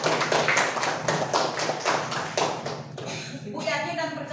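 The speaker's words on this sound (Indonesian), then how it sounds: "Ya, tepuk tangan untuk kita bersama." A class of schoolchildren claps together in a burst of steady rapid applause, fairly close, with voices briefly mixed in before it fades.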